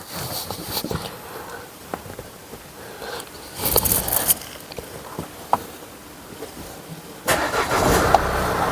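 A 2017 Mercedes E220 starts in a workshop during a brake disc and pad change, with clicks and handling noises before a burst of engine cranking and a steady running rumble near the end.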